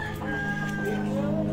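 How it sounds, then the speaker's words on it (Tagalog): Chickens clucking and a rooster crowing nearby in Balete, Batangas, Philippines, over a steady low hum of background noise. "May mga manok."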